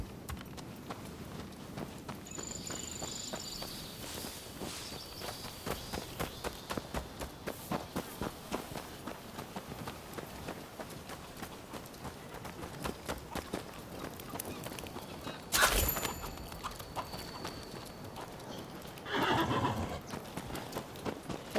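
Horses in the video game Rise of the Ronin whinny and clip-clop steadily on hooves, with a louder snort or neigh burst partway through and a second near the end, over a constant background.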